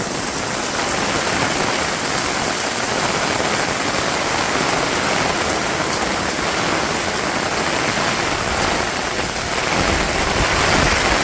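Heavy rain pours down steadily in a village, a dense, continuous roar of water hitting surfaces that stays loud and even throughout, with no voices.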